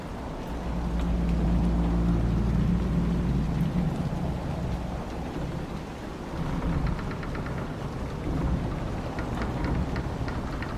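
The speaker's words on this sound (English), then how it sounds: "I could use the sun if this storm ever clears" Thunderstorm and heavy rain in Dragon Age: Inquisition, a dense roar of rainfall with a deep rumbling thunder swell at the start, steady and enveloping, no voices.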